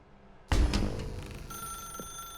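A telephone rings in the video game Stanley Parable: Ultra Deluxe, beginning with a sudden loud burst that settles into a steadier, tonal ring, with no voices over it.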